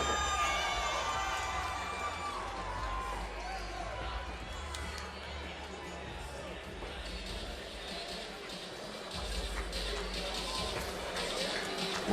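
A crowd boos fighter Jelani Perry at a Legacy Fighting Alliance mixed martial arts event, a steady wash of arena noise lasting throughout with a commentator talking over it.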